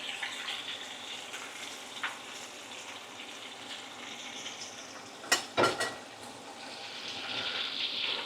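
Homemade chicken ribs fry in hot oil, a soft continuous hiss and bubbling with a brief burst of louder crackles near the end, heard close and without talking.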